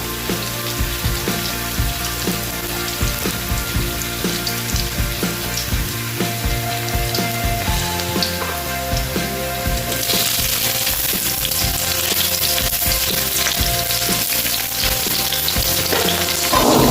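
Onion and capsicum fry in a pan for a restaurant-style soya chilli Manchurian, a loud, continuous close sizzle with rhythmic stirring scrapes that grows brighter and hissier later on.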